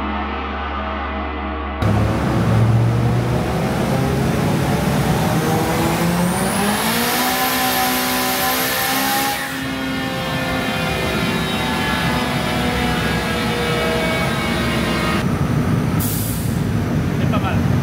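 A turbocharged Citroën Saxo VTS engine on a dyno roars steadily, climbing in pitch as it revs hard under load, with a whistling turbo whine rising alongside, then drops off near the end.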